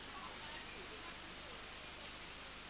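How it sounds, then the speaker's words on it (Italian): Heavy rain pouring down at an outdoor show jumping competition at La Bagnaia, 2009, a dense continuous wash of downpour noise with a faint low hum beneath. "Adesso piove davvero forte"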